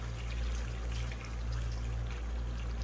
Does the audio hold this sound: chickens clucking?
no